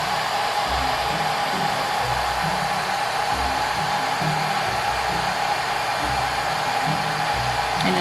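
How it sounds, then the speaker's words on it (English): A heat gun blows a steady, loud, continuous whooshing hiss of hot air close by as it melts crayons on a Halloween pumpkin art project, with no pauses throughout. "Just gonna get that off of my heat gun."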